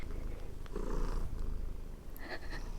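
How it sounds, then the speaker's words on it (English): A cat purrs close up in a steady, soft rumble, with a few faint rustles. "She's purring away."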